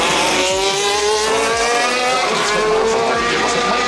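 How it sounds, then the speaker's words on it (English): A Formula 1 race car on its out lap at the Australian Grand Prix, with a high, loud engine rising and falling through gear changes as it passes near, heard from the crowd side. "Liam Lawson sets sail on his first out lap"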